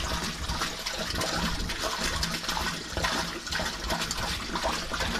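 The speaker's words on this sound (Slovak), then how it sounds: "otvárame štvrtý ventil, tak aby bolo vidieť bublinkovanie v oxickej časti" Air bubbling up through wastewater in the oxic chamber of a home sewage treatment plant tank as an aeration valve is opened, a steady, close, continuous watery rush and gurgle with no pauses.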